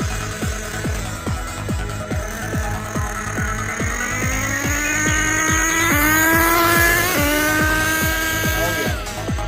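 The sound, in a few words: Kyosho USA-1 nitro RC truck running at half throttle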